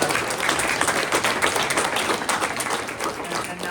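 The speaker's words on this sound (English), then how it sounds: "So one more round of applause for Jamie." A luncheon audience gives a round of applause, many hands clapping in a dense, lively wash that stays strong and close for the whole stretch with no voices over it.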